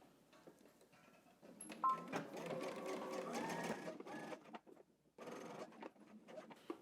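A sewing machine back stitches a seam on pleated pants, its busy mechanical chatter running in steady bursts with short pauses, close and fairly quiet.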